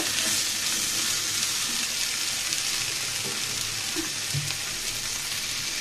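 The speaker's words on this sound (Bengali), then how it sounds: "সুন্দর করে আলুগুলোকেও ভেজে নিব।" Potatoes frying in hot oil in a pan, giving an even, dense sizzle that holds steady and close throughout, with a couple of faint clinks beneath it.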